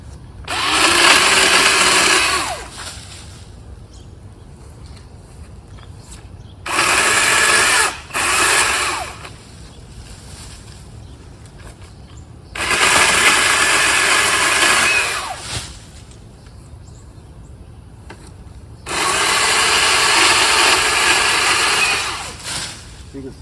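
A Milwaukee pole saw cuts through a decent-sized branch in four loud, steady buzzing bursts separated by quieter pauses.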